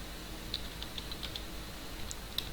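Computer keyboard typing code, with light, scattered key taps over a steady background hiss, faint and close, no voices.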